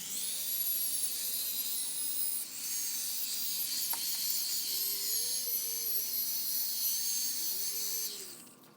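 A Toyota Prius headlight is sanded with 800 grit paper, likely on a powered sander given the steady high-pitched whine, close and continuous with a slight dip partway through, fading at the end, no speech.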